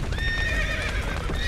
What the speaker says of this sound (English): Okay, you're free, horses.